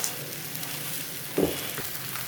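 Fish frying on a tawa griddle over high heat, a steady close sizzle with one brief louder spit partway through, and no talking.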